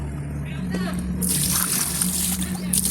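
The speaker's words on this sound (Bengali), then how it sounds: "এই গাছগুলোয় একটু করে জল দিচ্ছি" Water is poured onto plants in a light, continuous trickle and splash, partly under talking.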